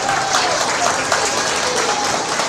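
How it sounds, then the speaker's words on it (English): Audience applause fills a hog show arena as young exhibitors leave the ring, a steady dense clapping with faint voices mixed in underneath. "Let's give a round of applause to these kids as they leave the ring today."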